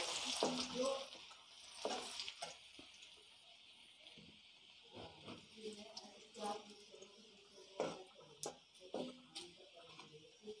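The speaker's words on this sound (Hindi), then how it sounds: "अब हम इसमें डालेंगे बारीक कटी हुई लहसुन और इसे थोड़ा सा भूनेंगे" Finely minced garlic frying in a little oil in a kadai, giving a faint, steady sizzle with scattered ticks and stirring clicks, while a voice talks over it.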